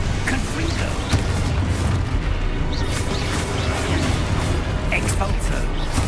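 A Confringo fire spell explodes in the Hogwarts Legacy game with dense, rumbling booms and bursts. They layer over constant busy game noise, with a sharper pop at the start and more blasts scattered through.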